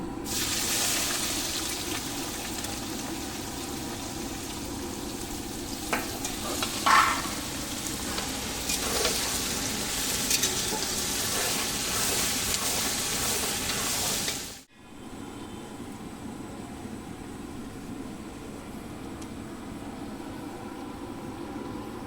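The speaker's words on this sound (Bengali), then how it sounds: "পেঁয়াজ ভাজা হয়ে গেছে" Chopped onion fries in hot oil in a kadai with a constant dense sizzle and occasional spatula scrapes. It stops abruptly partway through, leaving quieter background noise.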